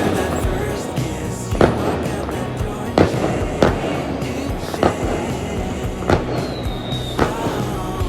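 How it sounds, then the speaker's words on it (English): Fireworks burst over Singapore in a nightly show, sharp booms landing every second or so over a continuous crackling rumble, with a faint whistle near the end. "we even had a fireworks show every night"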